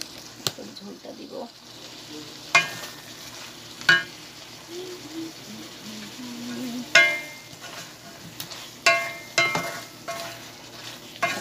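A rohu fish curry with pointed gourd cooks down in a pan with a low sizzle, broken by several sharp scraping stirs of a spatula, and a voice speaks briefly midway.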